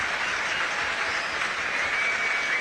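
A rugby stadium crowd at Franklin's Gardens in Northampton claps in a sustained standing ovation, a broad, even wash of applause heard from within the stands throughout.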